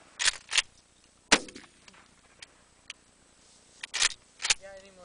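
A shotgun fires several sharp, loud blasts in irregular bursts, separated by quiet gaps, outdoors.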